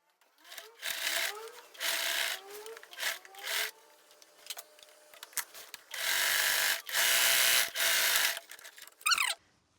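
A sewing machine runs in bursts while stitching a shirt, first short runs of straight seam then longer sustained buzzing passes for zigzag, close and loud with small mechanical clicks and pauses between runs.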